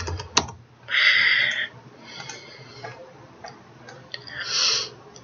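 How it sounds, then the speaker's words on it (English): Keys tapped on a computer keyboard while setting keyframes in 3D sculpting software: a sharp click, then two brief bursts of rapid clattering a few seconds apart, close and fairly loud over a quiet room, with no talking. "I simply hit S on my keyboard to set a keyframe."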